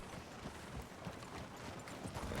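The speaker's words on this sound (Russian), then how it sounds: "Или послушные лошадки." Horse hooves clip-clop steadily in the Red Dead Redemption video game, several horses moving together at a walk amid a dense, constant wash of outdoor ambience with no voices.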